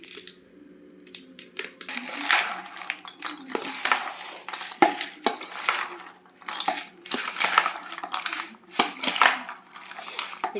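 Metal spoon stirring and scraping inside a small tiffin box while jhatpati is being made, rapid irregular clinks and rattles, close and fairly loud, with brief pauses between bursts.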